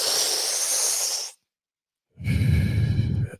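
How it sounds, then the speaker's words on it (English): Deep breaths drawn in through the mouth during a guided breathwork meditation: a long, close, airy rush of breath, a second of silence, then another breath with a softer, breathy tail. "Taking a deep breath. Let's just do it through the mouth for now."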